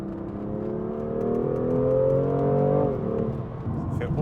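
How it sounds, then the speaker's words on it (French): A synthetic active engine sound from a car's speakers swells and rises in pitch as the car accelerates, then drops away, a smooth whirring drone with no talking. "je pense qu'il y a un énorme active sound dans la voiture."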